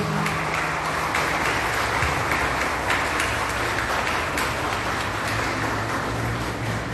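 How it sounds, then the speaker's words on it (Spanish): Loud, continuous applause from a festival audience, close and dense with sharp individual claps, filling the whole stretch with no break. "Un aplauso para el doctor"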